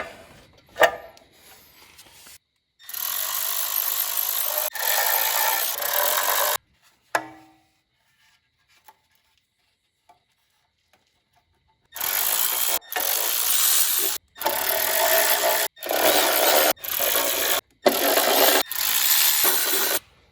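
A step drill bit grinds through metal on a 1964 Datsun 320 in several sustained harsh bursts, separated by pauses of near silence, the later runs broken into shorter chunks.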